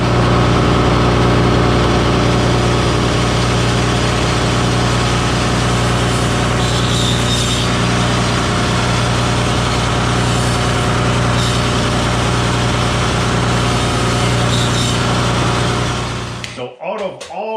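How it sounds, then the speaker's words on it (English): Table saw ripping a board down to half an inch, a loud sustained motor roar and cutting drone running steadily before the blade spins down at the end. "So now I'm going to rip this to 1/2 inch"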